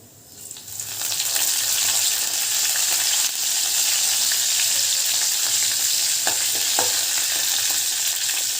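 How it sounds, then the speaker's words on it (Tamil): Fennel seeds, mustard seeds and curry leaves dropped into hot oil in a pan, a loud hissing sizzle that swells within the first second and holds steady, with a few faint pops and crackles. "வானல் அடுப்பில் வச்சு ஒரு ஆயில் ஊற்றியாச்சுக்க ஆயில் ஊற்றினோன்னா கொஞ்சமாக சோம்பு கொஞ்சமாக கடுகு கருவேப்பிலை"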